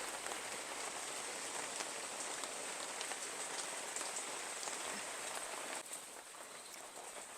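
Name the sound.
heavy rain falling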